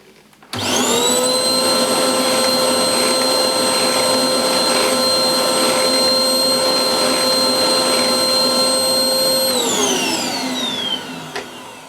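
Hoover Blaze bagless cylinder vacuum cleaner spins up and runs with a loud, steady high-pitched whine, then winds down as it is switched off near the end.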